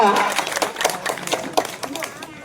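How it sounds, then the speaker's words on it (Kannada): Scattered hand claps from an audience honouring guests at a foundation-stone ceremony in Bavoor village, uneven and moderately loud, with a voice speaking over them throughout. "ಚಪ್ಪಾಳೆ ತಟ್ಟುವುದರ ಮೂಲಕ"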